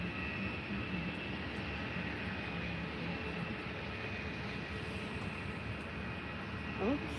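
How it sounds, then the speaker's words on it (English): A Jet2 Boeing 737 from Birmingham at Faro airport makes a steady, broad engine roar that holds at an even, moderate level throughout. "we now have a Jet 2 737 from Birmingham"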